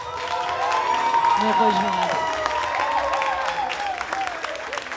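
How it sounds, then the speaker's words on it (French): On a French TV singing competition, the audience claps and cheers for three finalists. The applause runs continuously under a music bed and rises slightly early on, while a voice speaks briefly over it. "On applaudit donc nos 3 finalistes, Michel, Yves Christian et Valency"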